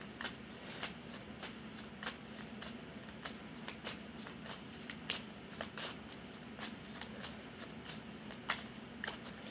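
Tarot cards are shuffled by hand in a quiet room, a soft rapid run of riffling clicks and flutters repeating steadily.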